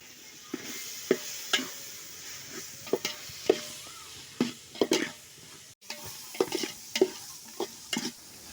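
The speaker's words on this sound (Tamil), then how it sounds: "மிளகாய்த்தூள் கொஞ்சம் மஞ்சத்தூள் சிக்கன் மசாலா இதெல்லாம் போட்டு நல்லா வதக்கிக்கலாம்" Soft sizzling in a pan as chicken with chilli powder, turmeric and chicken masala sautés, with intermittent scraping and stirring strokes, close by, no talking.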